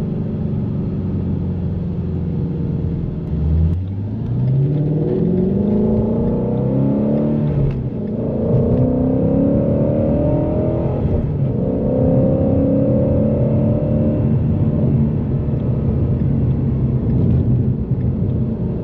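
A Shelby GT350 Track Pack Mustang engine pulling through the revs while driving, with several long rising sweeps and gear changes over a steady road rumble from inside the car.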